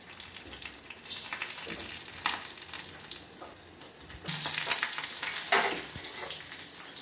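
Whole spices such as green cardamom and cloves sizzle in hot ghee in a kadai, a steady crackling fry that swells louder midway and carries on without any talk.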